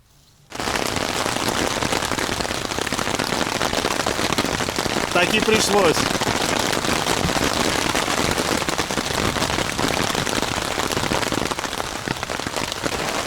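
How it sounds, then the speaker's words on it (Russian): Heavy rain drums steadily and loudly on a taut tent surface, a dense continuous patter from start to finish, with a brief voice heard underneath. "И все готово к приему ливня."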